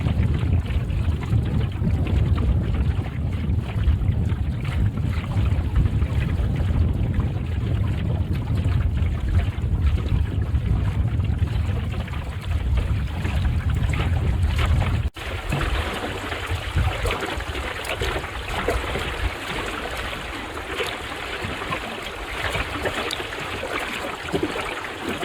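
A Mallard sailing dinghy glides across Hinze Dam lake, with a steady rush of water along the hull and heavy wind buffeting the microphone throughout, loud and continuous with no talk.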